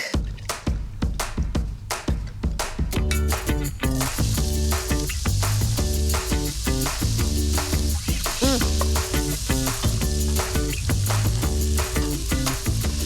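Onions and garlic hit a hot pan for a meat sauce, starting with a few crackling pops and then settling into a loud, steady sizzle over background music.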